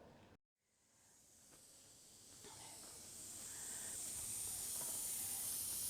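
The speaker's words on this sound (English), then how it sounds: "The steam is escaping from the valve of the pressure cooker, indicating that there's no air left in the pot." Steam hissing steadily from the valve of a pressure cooker, a faint airy hiss that slowly builds in strength after a brief dropout, heard alone.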